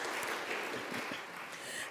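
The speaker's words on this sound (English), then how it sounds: "Give yourselves a round of applause for being present today." Attendees at a Martin Luther King Jr. Day program of Millsaps and Tougaloo College applaud themselves, giving soft, distant, continuous clapping that stays fairly even.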